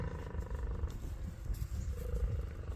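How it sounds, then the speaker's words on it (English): A bison bull purring during the rut near a cow in heat: a low, continuous rumbling drone, close and steady throughout with slight swells, no talking. "You want to hear what a bison sounds like?"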